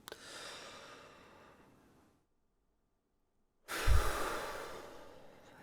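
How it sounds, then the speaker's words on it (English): A big breath drawn in and let out during a beginner flute warm-up, close and soft with a breathy hiss, then a pause of silence before a louder, gusty exhale. "Big breath in."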